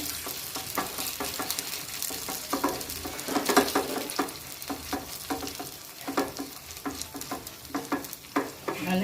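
Spoonful of potato and vegetable batter spread on an oiled pan over low gas, crackling and sizzling steadily with soft irregular pops and a few scraping spreading sounds, close up, no talk.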